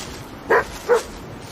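A dog named Rambo gives two short, close barks about half a second apart over a quiet background.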